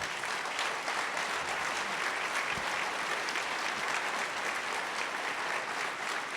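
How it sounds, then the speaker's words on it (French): Sustained, vigorous audience applause for the prime ministers of Québec, France and Canada fills the hall, a thick, steady clatter of many hands that stays at an even level throughout. "je pense qu'on vous applaudit très fort"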